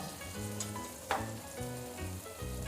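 Carrot, capsicum and beans frying in a pot for vegetable biryani, a quiet continuous sizzle with a few brief scraping stirs and one sharper clatter, heard up close without talk.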